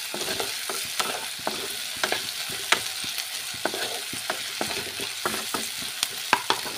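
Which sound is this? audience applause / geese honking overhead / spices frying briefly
spices frying briefly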